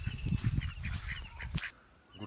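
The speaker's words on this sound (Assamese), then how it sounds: "ৰাতিপুৱা 5টা মান হৈছে আৰু আমাৰ হাঁহকেইটা চৰিবলৈ আহিলেই।" Domestic ducks out grazing at dawn give a series of close, busy quacks and honk-like calls, clustered in the first second and a half. A softer call comes near the end over quiet morning background.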